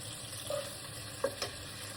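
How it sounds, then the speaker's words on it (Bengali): Garlic and chopped onion fry in hot oil with a soft, continuous sizzle, joined by a couple of brief stirring scrapes. "আমার তেল অলরেডি গরম হয়ে গেছে রসুন আর পেঁয়াজ কুচি"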